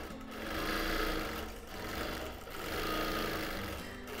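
A sewing machine stitching a free-motion quilted border on a wholecloth quilt, a fast steady needle chatter that swells and eases in two long runs with a short pause between, close and fairly quiet.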